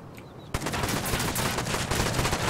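Dense, continuous video-game gunfire during a home raid, a sharp shot opening a sustained overlapping barrage that stays loud and steady throughout.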